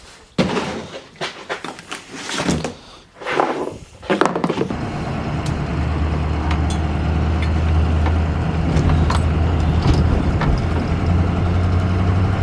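A 6.0 diesel pickup truck drives through flooded ground after heavy rain, with a few door-like thumps and clatter early on, then a steady loud engine drone with a low hum from about five seconds onward.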